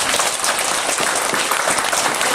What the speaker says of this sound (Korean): 우리 찬양대 한번 격려의 박수 한번 하겠습니다.